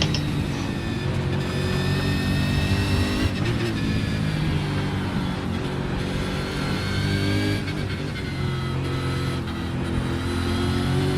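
V8 race car engine in a racing video game at Mosport, a steady loud drone with layered engine harmonics held at high revs, a brief dip around the three-second mark and again near eight, continuous throughout with no voices.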